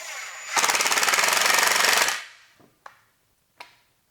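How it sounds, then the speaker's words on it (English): A power drill or driver runs a screw into old wooden cabinets in a garage: one loud, steady rattling burst of about a second and a half winds down, then two short clicks follow, with no talk. "What I can do is start drilling these in now."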